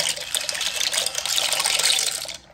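Pasta noodles dropped into a pot of hot boiling water and stirred, giving a short burst of splashing and sloshing that swells and then cuts off abruptly near the end.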